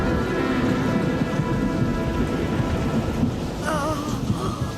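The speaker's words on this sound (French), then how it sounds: "Il y eut des orages, des tempêtes et même un raz-de-marée." Heavy rain pours steadily through a thunderstorm, with a deep, rolling rumble of thunder under the dense patter. The sound is loud and constant, with no voices.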